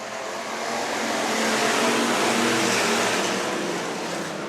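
A field of Bomber, Sport Compact and Modified race cars roaring up to speed at the green flag at Worthington Speedway, a loud, sustained engine rumble that swells and holds as the pack passes.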